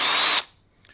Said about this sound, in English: I'm going to go ahead and remove the 2 screws from the motor.